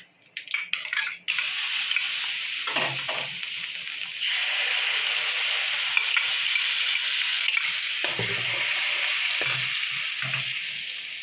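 Chopped onion frying in a hot pan, a steady close sizzle running throughout, with a few scraping stirs and light clatter near the start.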